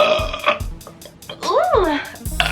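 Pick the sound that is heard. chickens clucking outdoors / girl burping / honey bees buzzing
girl burping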